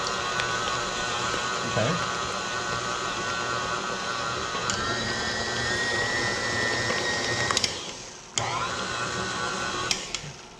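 Food processor pulsing almonds for banana bread, a loud whirring motor running in bursts with short stops and rattling, one brief spoken word.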